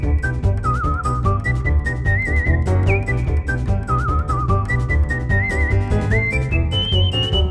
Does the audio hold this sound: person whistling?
yes